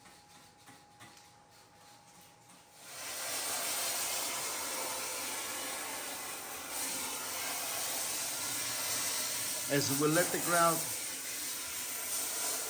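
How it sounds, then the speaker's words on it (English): Dry steam from a cleaner hisses onto bathroom wall tiles and grout, starting abruptly after a quiet moment and holding as a steady loud rush while someone narrates over it. "we sanitize all bathroom fixtures with dry steam"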